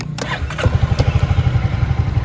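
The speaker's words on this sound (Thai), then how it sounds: "เดี๋ยว ลองสตาร์ทให้ฟังเสียงเครื่องยนต์เลยแล้วกันนะครับ" A Honda Forza 350 scooter engine cranks and catches, then settles into a close, steady putter with rapid rhythmic pulses.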